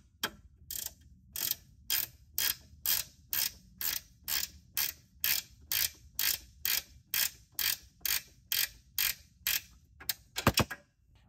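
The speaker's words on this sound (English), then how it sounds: "using a 13 millimeter wrench" A 13 mm wrench tightens bolts on a belly pan skid plate for a 2018+ Honda Goldwing, giving about twenty evenly spaced, crisp ratcheting clicks close by.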